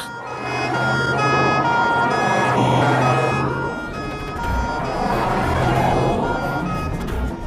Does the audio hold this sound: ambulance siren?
yes